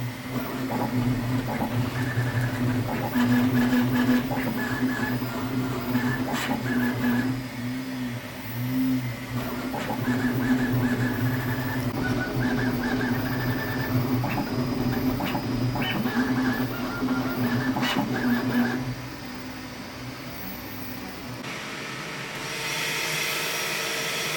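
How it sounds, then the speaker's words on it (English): A 3D printer printing ABS filament hums and whirs steadily with stepper-motor whines shifting in pitch as it works, close and continuous, easing quieter near the end. "I'll send it to the printer and print with the ABS filament"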